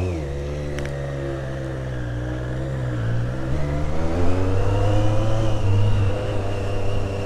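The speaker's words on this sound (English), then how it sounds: "we are on a 2022 Triumph Street Triple RS" A 2022 Triumph Street Triple RS motorcycle being ridden, its engine a loud steady drone that dips briefly and then climbs in pitch as it accelerates, heard close throughout.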